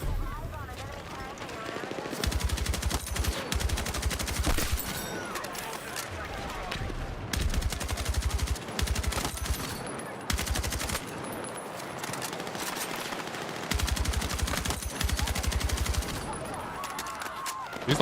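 Light machine gun bursts in the video game Battlefield 6, loud repeated rapid-fire volleys in irregular bursts separated by brief pauses, with someone talking over parts of the gunfire.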